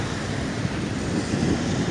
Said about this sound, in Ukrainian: це порог ревучий, ну, водоспад ревучий отут начебто